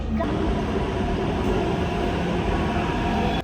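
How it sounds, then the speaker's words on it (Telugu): A Hyderabad metro train rolls along with a loud, continuous rumble and rushing hiss that hold steady throughout, with no voices. "మనం ఇప్పుడు మెట్రో క్యాచ్ చేసి వెళ్ళాలన్నమాట కూకట్పల్లికి"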